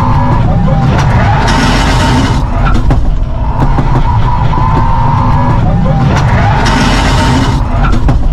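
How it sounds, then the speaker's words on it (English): A homemade joystick-steered UFO car drifts, giving a loud, continuous motor and tyre roar with swelling scrubbing surges, and voices are faintly present throughout. "So I tried to do a drift and this did a good job."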